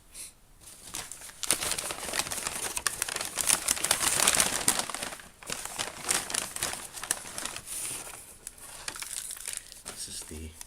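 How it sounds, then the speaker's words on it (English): Aluminum foil sealing a salsa container crinkles and crumples continuously with brief pauses, close-up and moderately loud, with faint talk in places. "I guess they ran out of lids, so they had to use foil to seal it."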